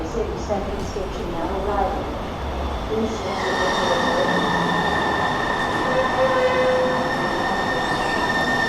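A Seattle light rail train rumbles in and runs along, wheels squealing faintly and a steady high whine building as it gets under way, with a voice talking in the carriage.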